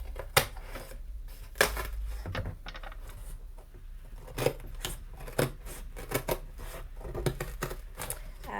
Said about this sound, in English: So I'm going to cut out those 2 strips.